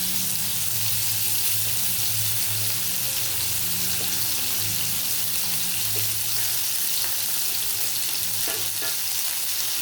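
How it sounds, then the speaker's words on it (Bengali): Green chillies, peas and other vegetables sizzle steadily in a hot pan for chilli paneer, with occasional scraping and clinking as they are stirred, no voices present. "এবার এগুলোকে একটু ভালো করে নাড়তে থাকি।"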